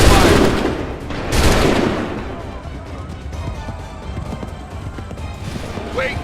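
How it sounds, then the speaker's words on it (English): Volleys of musket gunfire crack out in an Assassin's Creed 3 battle, with a heavy burst at the start and another around the first second, then smaller scattered shots under battlefield noise and shouting voices. "Open fire!"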